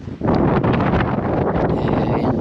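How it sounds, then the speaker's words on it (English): Strong wind beside a small mountain lake buffets the microphone, a loud continuous roar with gusty rustling throughout, no voices. "as you can hear it is windy"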